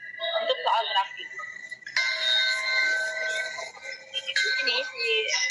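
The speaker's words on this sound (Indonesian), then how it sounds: "Masuklah bel untuk soal grafik." An exam-station bell in an OSCE pharmacy practical, signalling the start of the graph question, rings with sustained bright tones in two long bursts, alongside a short earlier chime.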